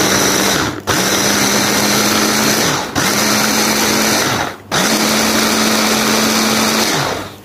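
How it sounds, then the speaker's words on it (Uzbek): Electric blender grinding fruit into a puree for homemade ice cream, a loud continuous whirring motor in three long bursts with brief pauses between them, no talking. "yaxshilab maydalab püre holiga keltirib ezib olamiz"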